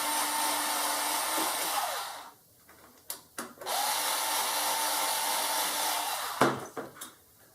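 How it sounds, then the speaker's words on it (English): An electric screwdriver spins with a high, steady whir, close by, used while taking apart a Keurig coffee maker; it stops for a moment with a few clicks and knocks, then whirs again before more brief handling clicks. "I love having an electric screwdriver."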